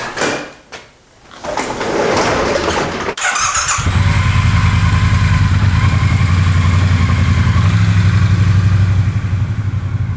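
A motorcycle fitted with a heated visor insert sets off for a slow urban ride: a few clicks and squeals, then the engine starts and settles into a loud, steady running drone close to the rider.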